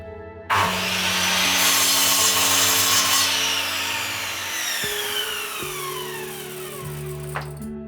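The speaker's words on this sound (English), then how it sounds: "I cut the panel and found that it's MDF." A power saw cuts through an oak-veneer MDF panel, starting abruptly and grinding loudly and continuously with shifting tones as the blade moves through the board.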